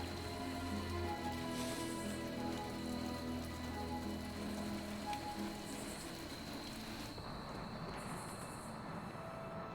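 Steady rain patters in the video game Midnight Suns as a constant faint wash of falling drops, with no voices over it.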